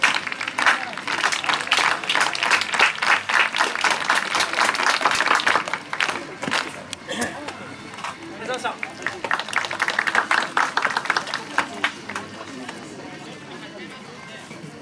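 Spectators in a stadium stand clap in a steady rhythm for a men's triple jump attempt at a track meet. The clapping speeds up and surges, dips, then builds again with crowd noise and some talk mixed in.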